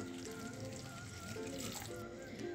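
Hot water pours into a simmering masala bhindi gravy in a pan, producing a steady hiss and bubbling sizzle that runs continuously at close range.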